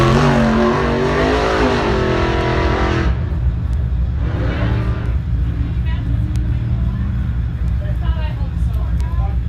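A 2-wheel drive Ultra 4 race car at the Wild West 100 off-road race revs hard, its engine note climbing and dropping loud and close for about three seconds, then continuing as a steadier, more distant drone under talk.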